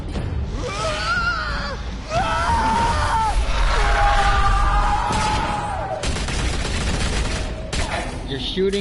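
Rapid video game gunfire from the Batman Telltale game, bursts of shots layered with shouting voices and music, dense and continuous across the scene.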